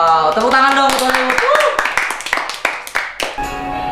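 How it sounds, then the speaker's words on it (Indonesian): A small group claps hands in sharp, distinct strikes that grow sparser and fade over a few seconds, heard close and fairly loud right after people speaking. "Wow, tepuk tangan dong buat kamu."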